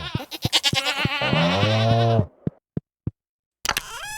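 Goats in the Stardew Valley farming game give a few quick, nasal bleats in a row, crisp and close, followed by soft clicks and a brief silence.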